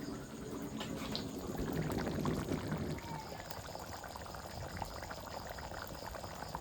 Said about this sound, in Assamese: চাবৰে পুৰা মাংসৰ আঞ্জা উতলি আছে।